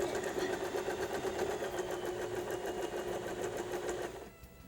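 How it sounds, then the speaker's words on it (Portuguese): Sewing machine running steadily while stitching patchwork baby blanket fabric, a fast even mechanical whir with rapid needle ticks, close and continuous before stopping near the end. "Então vou passar uma costura aqui,"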